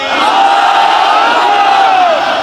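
A large crowd at a Sunni religious gathering shouts a slogan in unison: one loud, sustained massed cry of many voices, close and filling the whole moment.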